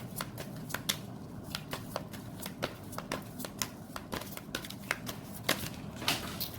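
Tarot cards being shuffled and drawn by hand during a reading, a close run of quick papery riffles and flicks repeating unevenly throughout, with no voice.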